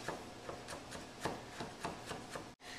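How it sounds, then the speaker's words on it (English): A knife mincing garlic and shallots on a cutting board, about a dozen quick, soft rhythmic chops close up, ending with a brief pause. "So I'm going to mince this up."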